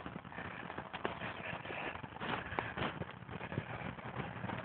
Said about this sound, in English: Oh, Stan, good horse